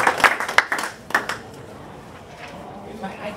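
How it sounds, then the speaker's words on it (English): A short round of applause at a Rotary Club meeting, a quick burst of scattered hand claps near the start that dies away within about a second and a half into room murmur. "Let's give him a big round of applause."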